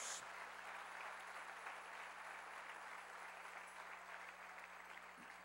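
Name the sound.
applause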